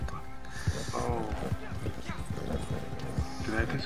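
A horse's hooves clip-clop in a steady, quick rhythm in a video game, with a few soft whinny-like sounds, while someone talks over the hoofbeats throughout.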